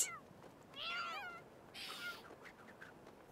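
Cats fight in The Sims 4, giving a couple of wavering, strained meows and a short burst of hissing, fairly faint and clear of talk.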